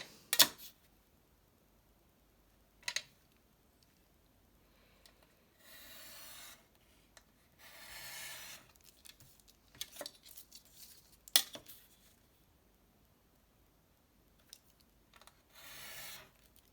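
Paper is trimmed for a junk journal tag in a quiet room: a series of short scraping cuts and rustles, scattered clicks and taps between them, close and soft with no talk.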